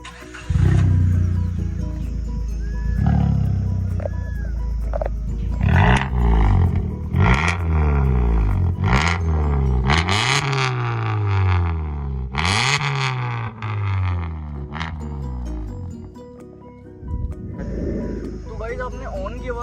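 Maruti Ertiga with a valvetronic exhaust, valve open, revs repeatedly near the tailpipe, loud rising and falling roars with crackles, with someone talking over parts of it.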